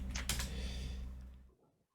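Fingers tap a computer keyboard in a brief, quiet flurry of soft clicks that trail off into near silence.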